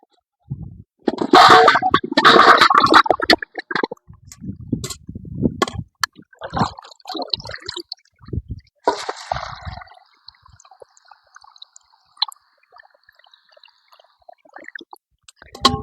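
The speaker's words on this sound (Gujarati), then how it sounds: "પેલા ચીકુ ધોઈ નાખું તો જો હું લઈ આવી લોયું અને પાણી નાખીને ધોઈ નાખું" Chikoo fruit are rinsed by hand with water in a metal pot, giving close splashing and sloshing in bursts. Clinks, drips and trickles come between them as the washing slows to quieter dribbles.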